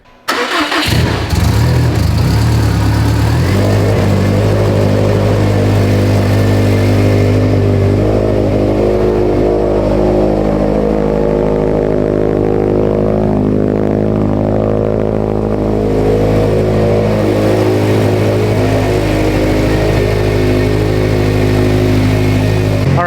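A built Subaru STI performance engine cranks, catches and settles into a steady, loud idle with a deep rumble that runs uninterrupted throughout.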